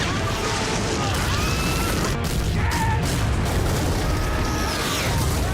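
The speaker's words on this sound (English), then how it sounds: "Those cannons are destructive." Cannon barrage in The Last Samurai, dense continuous booms and crashes rumbling loudly, with a voice speaking over the battle.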